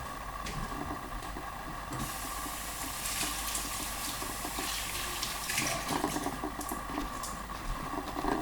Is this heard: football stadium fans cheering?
no